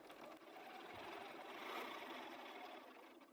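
A sewing machine stitches quilt blocks for a friendship star block, a steady, fast, close whirring hum running throughout with no pauses or talking.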